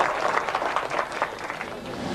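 A group applauds for presidents in a movie scene, giving a moderate, continuous patter of many hands that carries on evenly at medium distance without speech.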